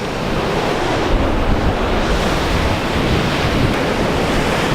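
Ocean waves breaking on a secluded beach beneath cliffs on Kauai, Hawaii, a loud, continuous roar of surf with steady wind noise buffeting the microphone and no voices.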